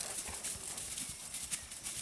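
A picazo overo horse on a countryside ranch moves with a steady, soft clip-clop of hooves on the ground, continuous and moderately close amid outdoor ambience.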